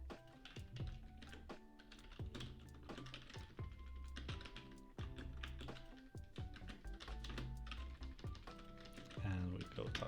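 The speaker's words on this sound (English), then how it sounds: "with my clickety clackety keyboard." Clicky, clattery computer keyboard typed in rapid bursts of close, sharp clacks, heard under a person talking.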